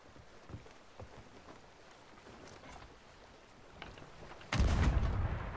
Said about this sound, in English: Load the cannon.